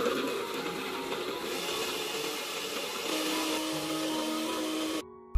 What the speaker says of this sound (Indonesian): Bumbunya akan kita blender sampai benar-benar halus ya.